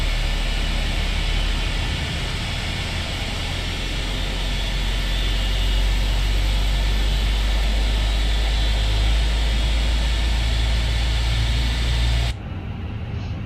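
Simulated IAE jet engines on a Fenix A320 airliner in MSFS 2024, running as a steady loud broadband roar with a deep low rumble and faint high whine, continuous for about twelve seconds before dropping off abruptly.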